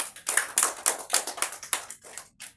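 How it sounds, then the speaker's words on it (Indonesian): A small class claps for a student, Tata, during an alphabet lesson: about a dozen distinct, fairly close hand claps in a loose rhythm, with a short gap before the final clap. "tepuk tangan dulu untuk Tata"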